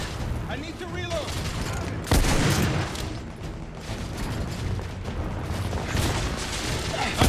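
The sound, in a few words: gunfire in video game The Order 1886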